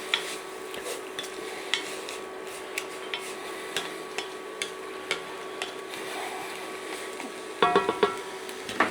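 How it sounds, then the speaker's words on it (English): Onions and carrots being stirred in a cooking pot for butter chicken, a spoon giving regular light clinks and scrapes against the pot about once a second over a low background hum, with a brief cluster of louder knocks near the end. "I'm just giving that a stir in."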